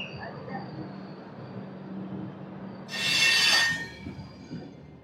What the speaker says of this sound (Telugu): మన ట్రైన్ అయితే స్టార్ట్ అయిపోయింది 1:10కి.